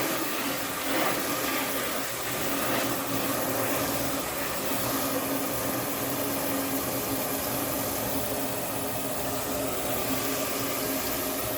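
Tap water running steadily into a basin while cleaning out a bee cottage, a continuous close hiss and rush with a faint low hum beneath, no talking.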